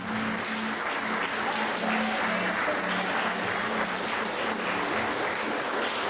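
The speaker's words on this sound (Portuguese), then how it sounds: "Palmas para Jesus" Church congregation clapping during a praise and worship service, a continuous, even wash of applause with a low hum beneath, moderately distant and steady throughout.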